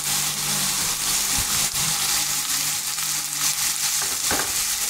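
Lardons fry in a pan with stewed onions, giving a close, steady sizzle and crackle with occasional stirring scrapes, no voice over it.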